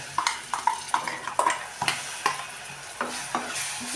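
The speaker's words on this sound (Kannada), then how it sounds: "ಎಣ್ಣೆಲಿ ಫ್ರೈನ ಆದ ನಂತರ ಇದ್ರಾಗೆ ಇವಾಗ ನಾವು ರುಬ್ಬಿರೋದು ಮಸಾಲೆ ಹಾಕೋಣ" Ground masala frying in oil for palak gojju is stirred in a pan at home, with a regular series of close scraping strokes of a spoon over a soft sizzle.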